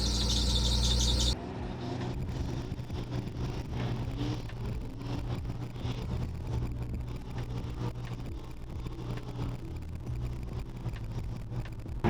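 An abandoned Nissan 300ZX on its first drive makes a continuous engine drone with a high squeal running on top, steady and close throughout, with no talking.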